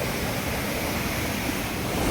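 Dhuadhar Waterfall at Jabalpur gives a loud, steady roar of falling water, a dense unbroken wash of sound with no voices.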